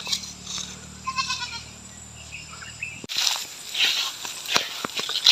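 Goats on a farm let out a few faint, thin bleats at a distance, followed by closer rustling and scuffing footsteps on the ground.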